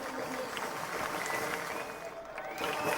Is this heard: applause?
yes